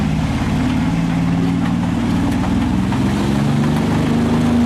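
A steady, droning vehicle engine from the Homebrew Vehicle Sandbox game, a constant low hum with rough harmonic layers and a slight shifting pitch, loud and unbroken throughout.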